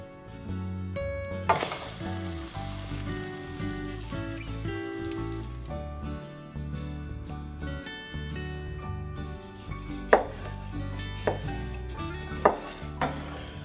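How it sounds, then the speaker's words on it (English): Steady, crackling sizzle of French toast frying in butter in a pan over medium heat, with occasional clinks of a utensil against the pan. "cooking the bread in butter over medium heat until golden brown"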